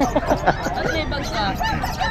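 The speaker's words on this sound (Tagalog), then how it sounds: "may malaking manok dito." A rooster's clucks and short calls ring out close by, mixed with a busy background of voices and outdoor noise.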